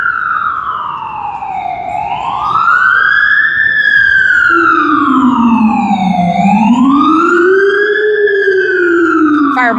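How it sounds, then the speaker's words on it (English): An emergency siren in San Francisco wails loudly in long rising and falling sweeps, a second lower wail joining partway through, close and continuous. "There's another siren going on."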